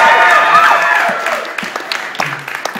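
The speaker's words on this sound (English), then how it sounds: "Don't clap too much." Audience applause at a live Tommy Wiseau Q&A, a dense burst of clapping that fades over a few seconds into scattered claps and murmurs.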